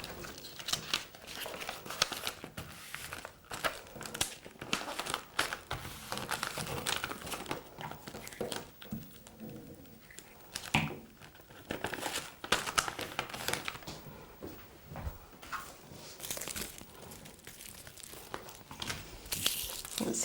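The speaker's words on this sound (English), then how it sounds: "I suggest that you wrap it in some leftover wrapping paper" Leftover wrapping paper crinkled and folded around a greeting card, a steady stream of close, dense rustling and crackling with small bursts of louder crumples.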